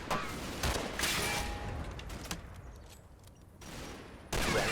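Machine-gun fire in Combat Mission: Battle for Normandy, in hedgerow fighting: rattling bursts of automatic fire come in several loud volleys, with short quieter gaps between them.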